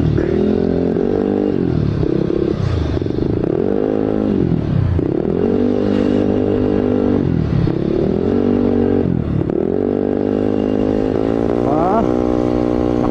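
A Yamaha Aerox 232 scooter engine revved hard at full throttle, loud and close, with repeated rising and falling surges across the whole stretch and a rattling mechanical edge.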